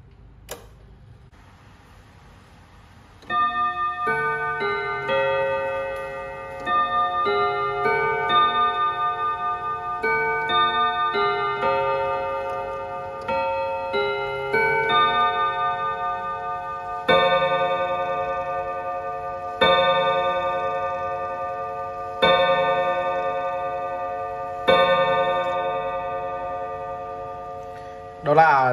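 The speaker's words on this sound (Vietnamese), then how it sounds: "Đó là tiếng chuông của chiếc đồng hồ Jura này." An antique French Jura wall clock strikes a long run of bright, ringing chimes with clear overtones, each stroke decaying before the next, preceded by faint mechanical ticking and a few small clicks.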